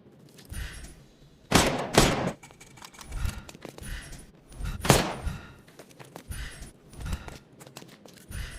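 Sharp gunshots in a Sherlock Holmes video game: a close double blast, then a single loud shot a few seconds later, with lighter footsteps and clatter between them.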